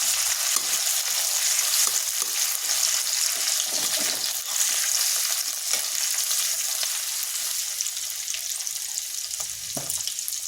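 Green chillies lightly frying in hot oil for a vegetarian sabudana khichuri, giving a steady, loud, close sizzle with faint stirring clicks now and then.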